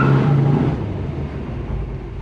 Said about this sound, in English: So what you do is give it some RPMs and just, you know, let it rip